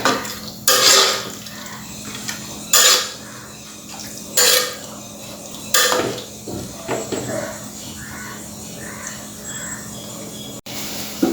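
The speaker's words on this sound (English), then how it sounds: "Mix it well." Spoon scraping and stirring prawn and mushroom pulao in a pot, several distinct clanks and scrapes at irregular intervals with softer stirring rustles between, close and fairly loud.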